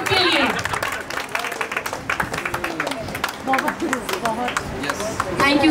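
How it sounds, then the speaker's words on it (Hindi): Audience applause at a stage show, clapping mixed with crowd cheers and chatter, lively and fluctuating, with voices heard over the hands. "तालियां खुद के लिए।"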